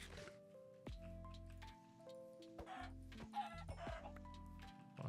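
Blocky Minecraft chickens cluck in short repeated bursts, interleaved with tonal game sound effects, clear and fairly close with no talking.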